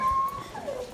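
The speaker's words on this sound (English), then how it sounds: "We gotta check out the dogs." A dog at a pet shop whimpers in a thin, high, wavering whine, faint and fairly close, drawn out across most of the brief moment.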